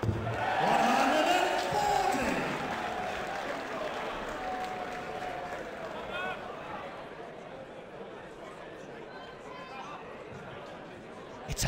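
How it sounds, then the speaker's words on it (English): Crowd applause from PDC World Championship Darts 2008 on PS2, a loud burst of clapping and cheering at the start that settles into a steady, fainter crowd murmur, with commentary voices over it. "It's a big old crowd tonight."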